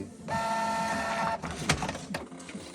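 A Canon G3411 inkjet printer runs a print job with a steady motorized whine for about a second, followed by clicking and rattling carriage and paper-feed movements close by.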